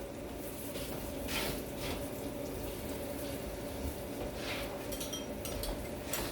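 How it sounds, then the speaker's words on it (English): Water poured from a tap or jug into a pan of sauce made with Shaoxing wine, a steady close trickle and splash running continuously over faint kitchen background. "Now we'll just add some water."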